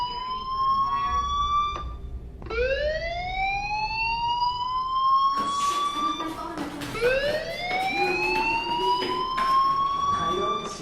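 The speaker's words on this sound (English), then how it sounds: "Hey, do you hear that fire alarm?" A wailing electronic fire alarm in the video game Life is Strange rises in repeated sweeping tones, each climbing then holding, loud and continuous over faint background noise.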